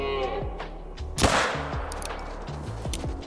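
A single sharp handgun shot cracks loudly in a hunting video game aimed at a moose, followed by a decaying echo and low rumbling ambience, with a few faint lighter clicks around it.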